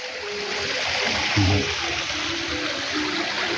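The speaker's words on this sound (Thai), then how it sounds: "ก็จะมีน้ำตกเล็ก ๆอยู่ฝั่งนี้" A small waterfall at a temple garden splashes and trickles in a steady, moderate wash, with a brief louder splash midway and faint tonal sounds in the background.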